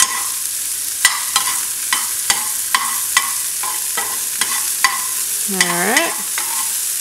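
Garlic seasoned with Tony's sizzles in a pan, with a steady bright hiss broken by about a dozen sharp, regular clicks and scrapes of a utensil stirring against the metal, close up. A single short word is spoken.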